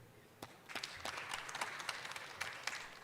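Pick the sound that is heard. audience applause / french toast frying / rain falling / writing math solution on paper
audience applause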